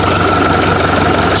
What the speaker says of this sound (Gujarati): હવે આપણે ટ્રેક્ટર ચાલુ કરીશું